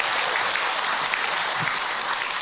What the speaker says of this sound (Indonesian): Sekali lagi tepuk tangan Ibu untuk AA Hilman.